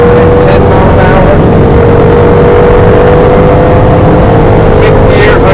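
A 2011 Jaguar XKR accelerating hard on a race track, its engine a loud, sustained, slightly rising drone heard close from inside the car, with heavy rushing noise, alone throughout.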